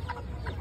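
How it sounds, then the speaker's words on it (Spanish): Chickens at a farm in Parque Samanes, Guayaquil, cluck briefly in a short burst of soft, close fowl calls with a low background rumble. "Mira pollitos, mamá, mira cómo se pierde. Hola, pollitos."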